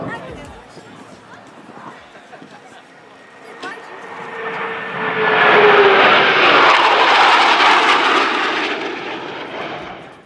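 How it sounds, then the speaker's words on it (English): A Blue Angels military display jet approaches with a rising rush and roars loudly overhead at the Sun 'n Fun 2019 airshow, a broad thunderous wash that lingers, with crowd chatter faint beneath it. "No one flies closer, faster, and louder than the Blue Angels"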